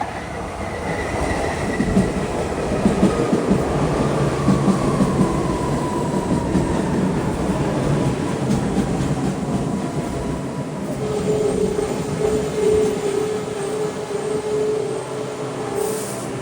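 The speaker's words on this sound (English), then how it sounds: "here's a Lindenwold bound train. We'll ride this to Lindenwold" A PATCO train bound for Lindenwold rumbles steadily along the rail line, with a continuous dense roar and faint high wheel tones drifting in and out, close and loud throughout.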